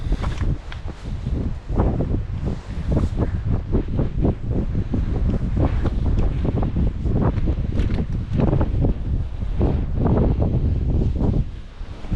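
Strong wind buffets the microphone outdoors during a javelina hunt in Arizona, a loud, continuous rushing roar with gusty surges that lasts throughout, with no talking.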